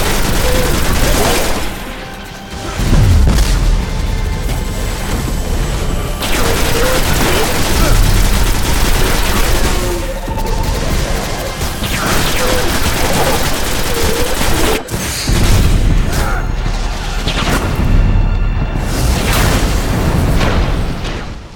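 Enemies and pulse rifles trade gunfire in the Destiny video game, with loud bursts of shots, booms and rattling volleys repeating over about twenty seconds. A voice talks over much of the combat.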